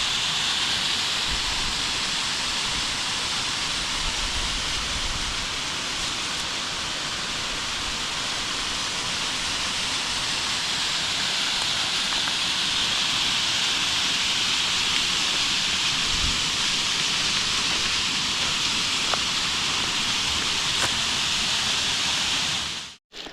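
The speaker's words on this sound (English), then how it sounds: "Rocky Creek waterfall." Rocky Creek waterfall along the Pinhoti hiking trail, a steady broadband rush of falling water that holds evenly throughout, close and fairly loud, with no talk.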